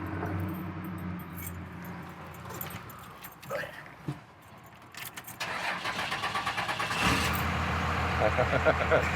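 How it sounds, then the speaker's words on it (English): A Cummins diesel engine in a 1991 Chevy K5 Blazer cranks and fires up after some rustling and jingling, then settles into a loud, steady, rhythmic clatter close by. "There's that Cummins Diesel right there"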